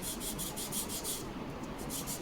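A sanding block rubs back and forth along the trailing edge of a balsa wood part, giving a soft, close, rhythmic rasping in even strokes.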